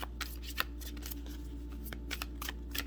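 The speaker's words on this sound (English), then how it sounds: "Let's see if we can keep shuffling" Tarot cards riffle and slap together in repeated quick bursts of shuffling, close up, over a low steady hum with no talking.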